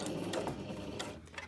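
A domestic sewing machine runs a few stitches across the short end of a zip tape while making a cushion cover, giving a steady, close mechanical whir with faint ticking, heard alone.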